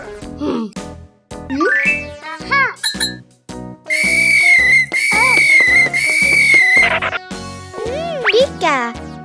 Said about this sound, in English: just blow the whistle.